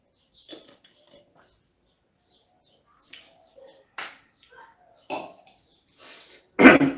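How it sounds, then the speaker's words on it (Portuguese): A person coughs in short, scattered bursts separated by quiet gaps, growing louder toward the end with a final strong cough, close to the microphone. "tô tossindo aqui."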